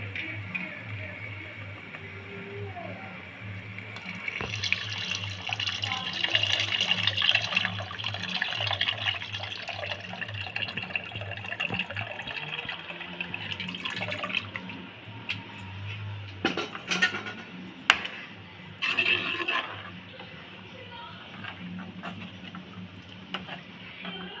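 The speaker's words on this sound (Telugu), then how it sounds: "ఇప్పుడు చింతపండు చింతపండు పులుసు పోసుకోవాలి" Tamarind water, thinned with the water left from grinding the spices, poured into a pan for a fish curry; a steady close liquid rush and splashing runs throughout, with a few sharp clinks partway through.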